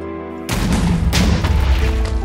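A rapid-fire gun in a modded Minecraft survival game opens up after a brief quiet moment, a loud, dense burst of booming shots that runs unbroken to the end.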